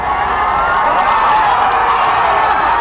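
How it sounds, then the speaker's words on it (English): A large crowd gathered outdoors cheers loudly at a same-sex marriage ruling, a dense, sustained roar of whoops and shouts heard close and continuous throughout. "A huge cheer, then singing as the decision reaches the crowd out front"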